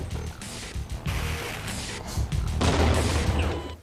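Grenade blasts and gunfire in a first-person shooter game, a dense loud barrage of booms and shots that swells toward the end, with no talk.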